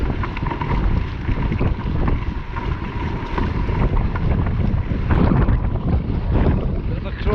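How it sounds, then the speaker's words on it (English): Strong crosswind buffets the microphone at a Highland bothy in Glen Dessary, a steady loud roar of gusting air throughout, with a voice faintly underneath. "Bit of a crosswind."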